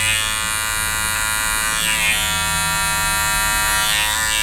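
Electric hair clippers buzz steadily and close up while cutting a skin fade, taking the zero line out in a barbershop haircut; a continuous motorized hum with slight shifts as the blade moves through hair, no talking.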